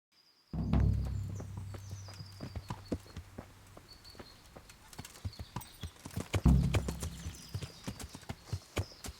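Horse hooves clip-clopping while riding in Kingdom Come: Deliverance, a steady walking rhythm of distinct close knocks, with a short burst of horse snorting near the start and again in the middle.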